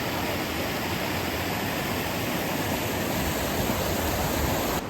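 A waterfall at Chundale rushes steadily, a dense, unbroken roar of falling water heard up close and filling the scene on its own.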